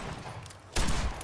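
Burst of gunfire in the Fallout game, a sudden loud broadband volley starting partway through after a quieter stretch and continuing to the end.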